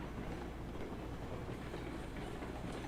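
Railroads Online train rolling along with its brakes applied mid-train, a steady, moderately quiet rumble of wheels and wagons with faint clickety-clack throughout and no talking.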